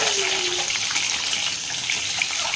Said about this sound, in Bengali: পাশে গরম জল বসিয়েছি, এই জলটা দিয়ে দেবো